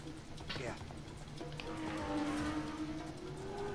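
In the video game Uncharted 4, a car engine rises in pitch as the vehicle revs and pulls away, moderately loud beneath game dialogue, with a short squeal-like whine near the start.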